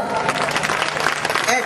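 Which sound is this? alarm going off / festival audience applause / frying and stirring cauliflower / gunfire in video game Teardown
festival audience applause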